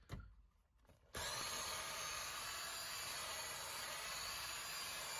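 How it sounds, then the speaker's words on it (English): A cordless drill fitted with a scrub brush whirs steadily against the upholstery of a Dodge Caravan seat during shampooing with diluted all-purpose cleaner, a constant close buzzing scrub after a brief quieter start. "I'm using a cordless drill brush."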